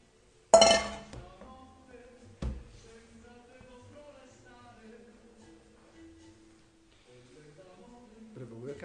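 A spatula mixes pizza dough of flour and salt in a bowl, opening with a sharp clink against the bowl, then a second knock and softer scraping and stirring sounds that carry on at low volume.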